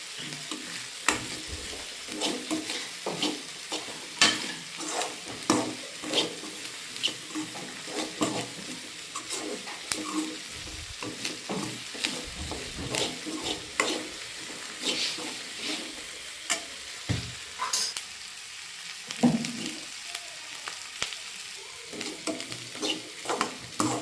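Grated coconut roasting in oil in a pan, a continuous close sizzle broken by frequent scraping stirs that come at an uneven rhythm throughout, with no voices.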